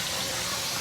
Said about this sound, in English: Just going to drain this and refresh it in some cold water to stop it from cooking.